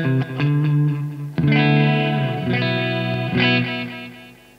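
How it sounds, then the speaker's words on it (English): Electric guitar through an MXR Joshua Ambient Echo pedal set to a plain single delay: sustained chords ring out with repeating echoes trailing behind each strum, several attacks layered in a wash of tail, no voices. "So you've got your regular delay sound."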